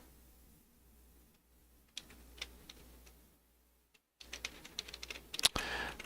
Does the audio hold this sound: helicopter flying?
no